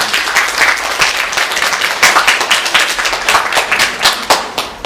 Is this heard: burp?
no